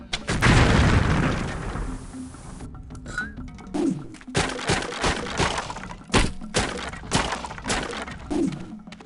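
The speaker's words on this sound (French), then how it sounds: "Là aussi, ça explose." Explosions erupt in the fantasy video game Nox, opening with a loud, booming blast that rolls off into a series of sharp thuds, cracks and smaller bursts of battle noise.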